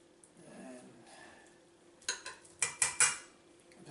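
A spoon scrapes cooked pumpkin flesh from the shell for puree: a soft rustle, then a run of four or five sharp, close scraping strokes in quick succession.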